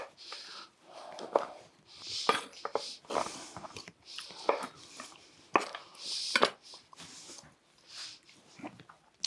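A kitchen knife slicing Cadbury Creme Eggs in half on a board, a series of irregular cutting taps and soft thuds, close and fairly quiet, with small clatters between strokes.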